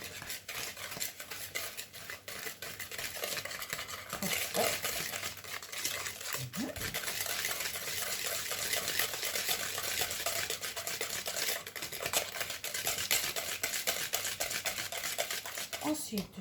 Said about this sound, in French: Le sucre vanillé, la petite pincée de sel en premier, et je commence donc à mélanger